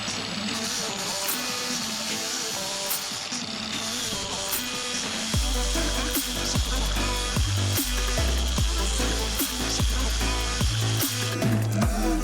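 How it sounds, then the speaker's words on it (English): A grinder works down weld holes in the firewall of a Honda S2000 engine bay, a continuous close whine with light, even pressure, joined midway by repeated low thumps and hum. "Here's a close-up look of how I'm trying to grind down the actual weld holes themselves."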